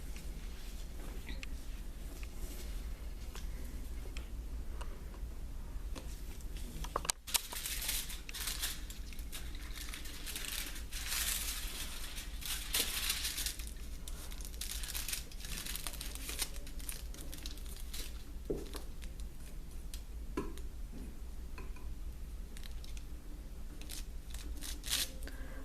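Aluminium foils for a cosmetology chemical service being opened and handled, with soft, continuous crinkling and rustling throughout, plus a sharper crackle near the middle, at a steady low level with no talking.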